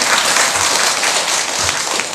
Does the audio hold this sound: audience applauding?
yes